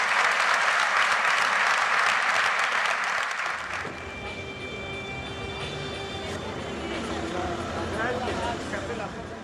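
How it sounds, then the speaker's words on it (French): Audience applause for a Citroën WRC rally driver at a 2004 world rally championship celebration: dense, loud crowd clapping for about four seconds, then giving way to vehicle rumble and street background. "Je vous demande encore des applaudissements pour Sébastien."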